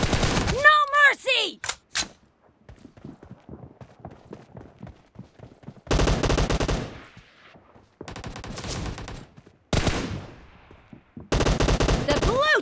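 Bursts of automatic gunfire in a BGMI team deathmatch on a phone, several loud rapid volleys separated by brief pauses, with footsteps and game voice lines in between.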